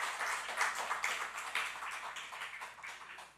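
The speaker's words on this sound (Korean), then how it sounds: "우리 학생들한테 한번 박수 한번 해주세요" A church congregation claps for students, a soft, somewhat distant ripple of hand claps with faint rhythmic pulses that gradually thins out, quiet and unaccompanied by talk.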